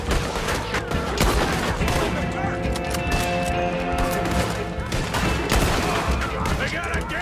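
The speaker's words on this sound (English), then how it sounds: "They got a Gatling gun!" Rapid Gatling gun fire in Red Dead Redemption 2 rattles continuously through a dense, loud shootout, mixed with other gunshots, crashes and shouting voices.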